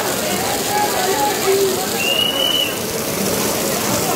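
Heavy rain pours down at a Krishna Janmashtami dahi handi gathering, a constant dense hiss of water with faint tonal calls rising briefly through the downpour.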